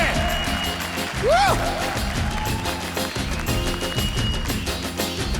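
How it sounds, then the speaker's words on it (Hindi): A studio audience at a comedy-show taping claps loudly and rhythmically along with an upbeat song, the beat-matched claps running steadily under music and voices. "ताली बजा रहे जोर से"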